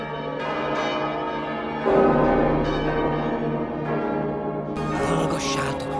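Church bells ring at Notre Dame in Paris, a dense, continuous wash of overlapping tolling tones, loud and sustained with a brief swell partway through.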